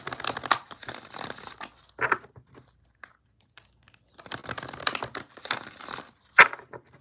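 Tarot cards are shuffled in two separate bursts of riffling and papery rustling, with short quiet gaps between them.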